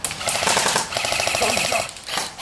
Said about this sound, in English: Enemy fire incoming.